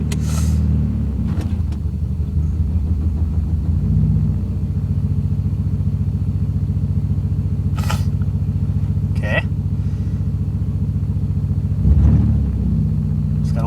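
A Nissan 240sx engine idles in drive with a steady low rumble that sags and hesitates in a bog, then briefly surges, with short bursts of talk over the continuous drone.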